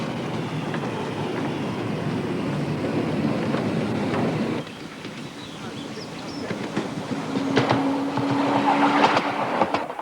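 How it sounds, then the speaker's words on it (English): A 7¼ inch gauge three-coach Sprinter class miniature train built by Parkside Railways runs along an outdoor track at Betws-y-Coed, giving a continuous rumbling roll with wind buffeting the microphone and a brief tonal whine late on. "This three-coach Sprinter class, built by Parkside Railways and owned by Brian Howard from Nelson in Lancashire, had a busy weekend providing a passenger service"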